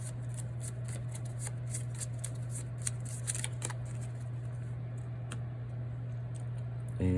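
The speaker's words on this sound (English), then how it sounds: "So let's go ahead and also shuffle up the wound deck." A wound deck of cards for a tabletop board game being shuffled, soft quick riffling and card slaps repeating close by against a quiet low hum, with no talk.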